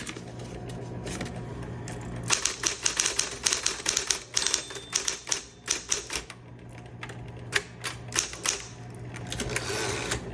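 A 1960s Smith Corona Electra 120 electric typewriter types a quick run of sharp keystrikes over a steady motor hum, then its margin release is worked, all close and fairly loud with no talking.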